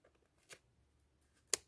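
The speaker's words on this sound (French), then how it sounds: "Évidemment, j'ai les gros ciseaux, c'est pas terrible." Large scissors cutting through a sticker give two short, crisp snips close by, the second louder, in a quiet setting.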